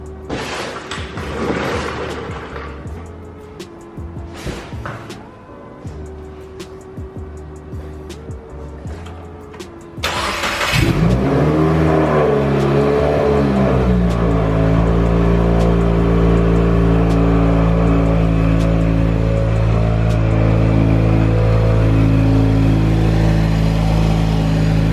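Some clattering and handling noises, then a car engine fitted with an AEM charge pipe cranks and catches, revs sharply, and settles into a loud, steady idle up close.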